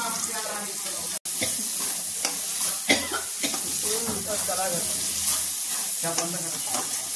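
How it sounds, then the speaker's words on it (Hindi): Masala for desi pasta sizzles and fries in a pan while being stirred, a steady hiss of frying with scraping stir strokes throughout, close and continuous. "सर्व असा मसाला छान हलवून घ्यायचा, भाजून घ्यायचा मस्तपैकी।"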